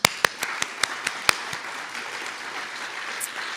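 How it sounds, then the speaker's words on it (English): Scattered audience clapping at a Saturday science lecture, with a handful of sharp individual claps at the start that quickly thin into a soft, fading patter. "Can we give her a round of applause?"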